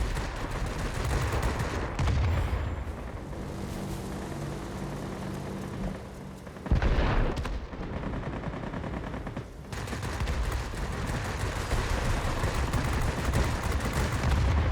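Rapid turret gunfire from a Beaufighter heavy fighter in World of Warplanes, dense sustained bursts of machine-gun fire over engine drone, with a brief louder burst near the middle.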